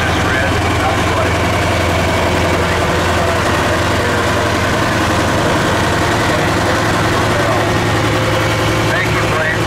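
An 856 Custom 100-horsepower tractor engine idles steadily with a low, even throb at an outdoor steam and gas engine show in Baraboo, Wisconsin, running loud and continuous while voices and crowd noise carry underneath.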